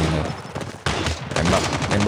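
Call of Duty Mobile gunfire comes in rapid close bursts, a dense loud rattle that breaks off briefly and then resumes, with voices mixed in underneath.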